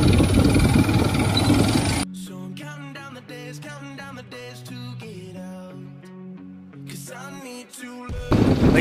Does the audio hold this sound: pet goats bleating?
no